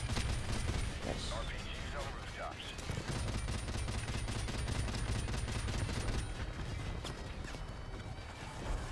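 Dense gunfire from the video game Modern Warfare Remastered, a loud continuous fusillade of rapid shots and bursts running throughout with game noise layered in.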